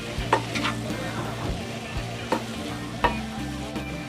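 Cabbage fry cooking in oil in a pan at home, stirred with a utensil: steady close sizzling with periodic scraping strokes and light clacks against the pan, no talking.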